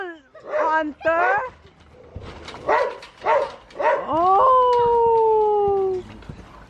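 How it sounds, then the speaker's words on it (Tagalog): Several dogs together outdoors near a trampoline, giving loud close barks and whimpering yips that end in a long sustained howl, with people talking and calling out over them. "Ang daming aso."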